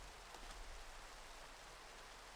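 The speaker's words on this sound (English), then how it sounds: "Ooh, rain. That's bad." Rain in the Minecraft video game hisses as a soft, even, continuous wash of noise, faint and unbroken, with nobody speaking.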